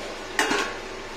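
A metal lid set down on a cooking pot of simmering okra tamarind curry, one quick clanking knock with a brief ringing tail, close and isolated.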